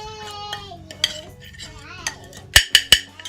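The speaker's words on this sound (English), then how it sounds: "So we'll mix it all together." A fish marinade is stirred in a bowl for oven-grilled tilapia, giving soft scraping with a few sharp utensil clinks against the bowl toward the end, close and fairly quiet.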